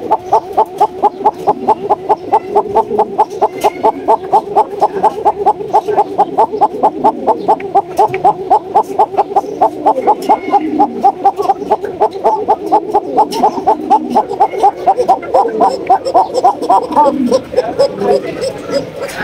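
Pigeons coo in a loft in a fast, regular series of throaty pulses that repeats steadily and loudly, close by, for nearly twenty seconds.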